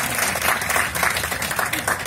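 An audience at a ghazal performance claps in steady, continuous applause that fills the room for about two seconds.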